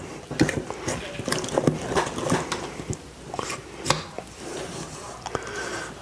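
Dough of fresh milled whole grain flour being mixed by hand in a bowl, with irregular thuds, scrapes and wet squelches, close and fairly loud, while a voice talks over it.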